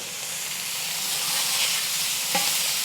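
Thin-sliced cheesesteak meat sizzles loudly on a carbon steel griddle over a Konnected Joe grill, a dense, constant hiss close up with one faint clink near the end.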